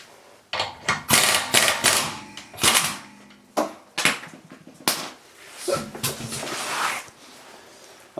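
Air impact wrench spinning off the wheel nuts of a 2006 Audi A3 rear wheel, a series of loud sharp rattling bursts in quick succession with short pauses between them.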